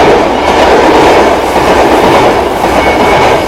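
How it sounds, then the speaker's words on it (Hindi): A train rolls along at speed with a loud, steady rumble and a clickety-clack of wheels on rails that fills the whole stretch. It holds constant, with no voices over it. "तभी ट्रेन की स्पीड अचानक बढ़ गई।"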